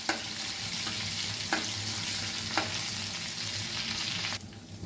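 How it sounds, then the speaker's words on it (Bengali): Garlic sizzles and crackles steadily in hot oil, a continuous close frying hiss with a few sharper pops and stirring scrapes, heard alone without talk. "Now I am frying the garlic with oil."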